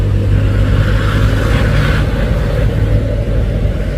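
A red dump truck rolls past on a hilly Indonesian road, its engine giving a steady, loud, continuous rumble for a few seconds without any talking.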